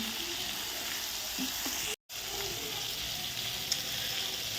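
Prawns and green jackfruit fry in a pan with a continuous loud sizzle and faint stirring. The hiss cuts out for a split second, then carries on unchanged.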